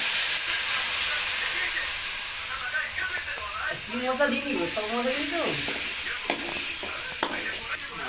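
Water splashed into a pan of onions frying with chili, turmeric and cumin powder: a loud hiss and steamy sizzle, with stirring scrapes and a voice speaking faintly underneath.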